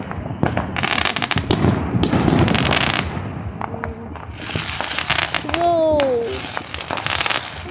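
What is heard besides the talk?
fireworks exploding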